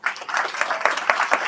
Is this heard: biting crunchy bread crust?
no